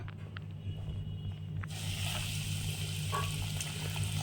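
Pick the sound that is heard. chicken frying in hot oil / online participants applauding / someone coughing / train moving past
chicken frying in hot oil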